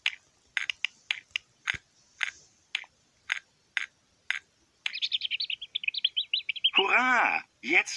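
Hungry chicks chirp in a Peppa Pig video game: a string of separate bright peeps, then a fast, dense run of chirps and a louder warbling call near the end, clear and close with no talk over them.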